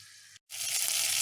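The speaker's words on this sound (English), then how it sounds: "it's just coming to the right temperature and it starts to sizzle" Sausage sizzles in a pan as its fat renders, a close, steady crackling hiss that briefly drops out and then returns louder and denser.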